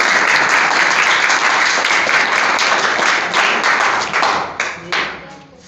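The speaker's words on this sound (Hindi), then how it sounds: "आपकी भरपूर तालियों में आपके उस्ताद मोहतरम जनाब मौलाना उमैर साहब सर के लिए भरपूर क्लैपिंग की जाए।" Crowd applause for a teacher at a school farewell party, many hands clapping steadily and loudly close by, then thinning out and trailing off into scattered claps near the end.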